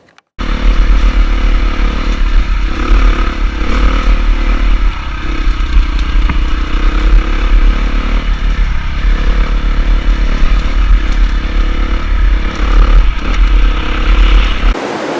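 A KTM 350 XC-F dirt bike rides a mountain trail, its engine a loud, steady, close drone that rises and falls with throttle over about fifteen seconds, mixed with clattering chassis and gravel noise.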